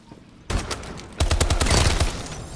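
Rapid automatic gunfire from Call of Duty: Advanced Warfare starts in short bursts after a brief lull, then swells into a dense, loud stream of overlapping shots with heavy low thumps.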